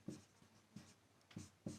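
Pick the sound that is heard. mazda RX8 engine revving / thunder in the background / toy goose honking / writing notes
writing notes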